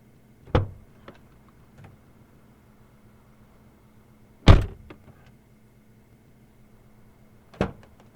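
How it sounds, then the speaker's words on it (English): A car door is handled in three separate bursts: a sharp unlatching clunk, a louder thud or swing a few seconds later, and a final knock, each near and crisp against a quiet background. "I'll open up the car door for you."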